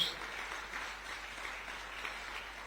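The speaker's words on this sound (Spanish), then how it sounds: "Dar un aplauso a Cristo, dar un aplauso a Cristo" Soft, distant applause from a church congregation during a sermon, a faint continuous wash of clapping without breaks.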